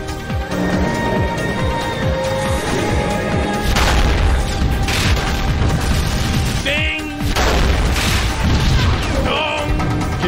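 Spaceship guns firing in a battle in the space game EVE Online: dense, continuous rumbling booms and crashing impacts layered over a droning background, with brief electronic chirps, loud and sustained.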